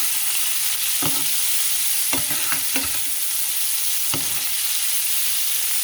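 Onions frying in oil in a pan on a stove set to low, a steady soft sizzle with a few faint clicks and stirring taps on top, no voices.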